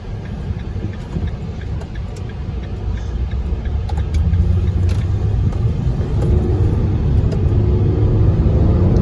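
Heard from inside a Ram ProMaster van on a test drive, the engine pulls strongly toward 45 mph at about 5,000 RPM, a steady low rumble with road noise that grows louder and fuller as the van accelerates.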